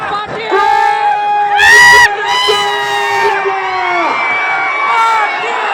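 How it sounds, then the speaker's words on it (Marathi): A large crowd at a political rally in Maharashtra erupts in loud cheering, whoops and shouts, rising in bursts over the first few seconds, with an amplified voice carrying over the noise. "प्रचंड टाळ्या वाजवा"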